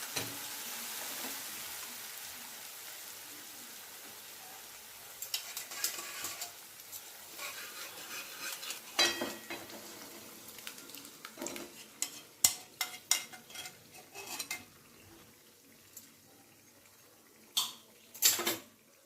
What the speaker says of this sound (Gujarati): તો આપણો મસાલો પાકી ગયો છે તો એમાં દાળ એડ કરી દઈશું